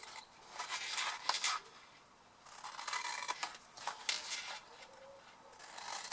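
Scissors snipping through paper gift box pieces in quick bursts of sharp close cuts, pausing briefly between runs of slicing.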